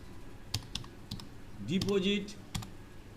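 Computer keyboard keys tapped a handful of times while entering a deposit example in Tally accounting software, short close clicks in a brief irregular burst, with a voice speaking partway through.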